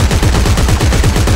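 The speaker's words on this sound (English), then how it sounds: "now let me show you the bullpup rifle" Bullpup rifle from the video game Dead Space 3 firing on full auto, a loud, fast, even burst of repeated shots lasting just over a second.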